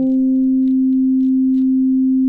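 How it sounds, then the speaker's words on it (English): A Waldorf Iridium synthesizer plays a pure sine wave with its FM modulator turned down: a single steady, loud, unwavering tone held without break for the whole clip. "pure sine wave, okay?"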